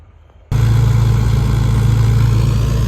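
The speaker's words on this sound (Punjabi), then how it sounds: "ਚੱਲਦਾ ਟਰੈਕਟਰ ਹਾਂ ਵਧੀਆ ਚੱਲਦਾ" A tractor's diesel engine starts up abruptly and settles into a loud, steady, throbbing idle close by, with no voices.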